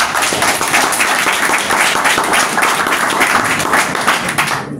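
Audience applause at a hospital reopening ceremony in Haiti, a dense, loud and steady clapping from many hands that continues throughout.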